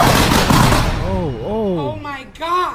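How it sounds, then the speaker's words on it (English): Thunder from a lightning strike near a house: a loud, broad rumbling burst that fills the opening second, then rolls on under excited voices reacting in the foreground. "Was that lightning?"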